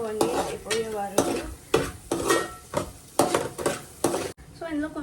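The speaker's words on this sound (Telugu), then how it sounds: "ఇప్పుడు ఇందులో ఉల్లిపాయలు వేసేస్తున్నా. సో బాగా మిక్స్ చేసుకోండి అయిపోయే వరకు." Onions frying and being stirred in a pan for a Telugu-style paneer curry, with loud repeated spoon scrapes in a steady rhythm over a constant sizzle, close by, while someone talks over the cooking.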